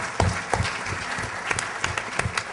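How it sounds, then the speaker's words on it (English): An audience at a conference gathering breaks into applause: many hands clapping in a dense, lively burst with sharp individual claps standing out, heard close and fairly loud with no talking. "Give Sandra a big round of applause also"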